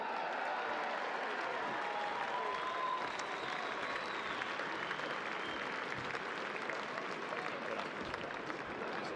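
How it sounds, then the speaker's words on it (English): A large stadium crowd applauds for the captain at a WAFL grand final premiership presentation, a continuous broad wash of clapping and cheering heard from a distance, with a faint announcer voice over it. "And a big round of applause captaining his first premiership,"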